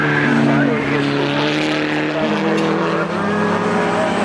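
Race cars, among them a Toyota Supra and a BMW, roar continuously around the Croft circuit, engine drone steady and loud with layered harmonics throughout, a commentator talking over the racing.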